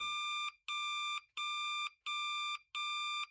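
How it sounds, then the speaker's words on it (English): An alarm clock goes off with five loud, evenly spaced electronic beeps, each about half a second long, sounding alone with nothing else in the background. "the boy's alarm goes off"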